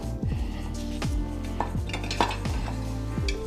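A slotted onion-cutting guide is handled against a hard surface, making repeated light clatters and knocks over a steady background hum.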